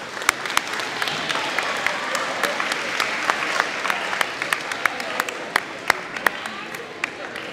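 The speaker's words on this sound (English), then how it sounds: "One more round of applause as they have a seat." Applause for seventh-grade students at a middle school academic awards ceremony, sustained crowd clapping with a few sharp, close individual claps standing out above the steady wash throughout.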